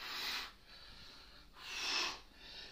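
Heavy rhythmic breathing from a person during a powerful elbow massage with decompression, two long noisy exhalation-like breaths with a short pause between, close and alone.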